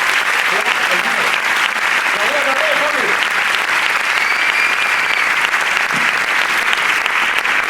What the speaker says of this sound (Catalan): us podeu aplaudir a vosaltres mateixos que també us toca. Aplaudim-vos.